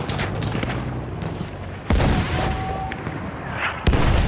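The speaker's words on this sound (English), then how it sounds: "Another artillery shot at him." Two heavy artillery shots go off in Battlefield 1's Sinai Desert battle, each a sudden loud boom several seconds apart over constant battlefield rumble and distant gunfire.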